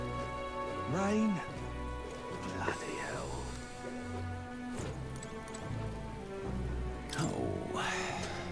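Rain falls steadily in the fantasy role-playing game Metaphor: ReFantazio, a soft, even hiss of drops running beneath voiced character dialogue and occasional exclamations.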